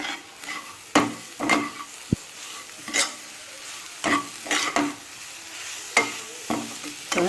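Carrot halwa cooks in ghee as sugar goes in, a soft sizzle under distinct scraping stirs and an occasional metallic tap against the pot, spaced about a second apart, near and fairly loud.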